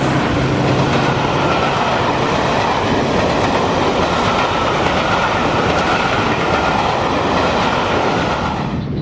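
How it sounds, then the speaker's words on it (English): A Class 55 Deltic diesel locomotive hauls a train past Stratton St Margaret's, a loud continuous roar of engine and rolling wagons with faint clickety-clack, sustained throughout. "The train passes Stratton St Margaret's."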